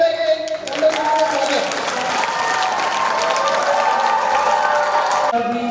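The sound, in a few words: audience applause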